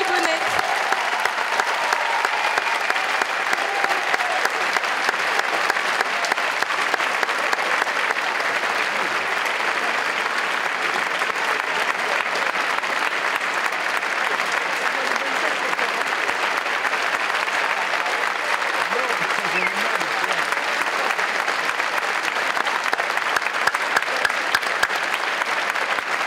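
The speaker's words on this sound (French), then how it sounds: "Merci d'applaudir le gagnant de cette 5e édition du concours d'éloquence" Sustained, dense audience applause for the winner of an eloquence contest final, steady and loud throughout with a faint murmur of voices in the crowd.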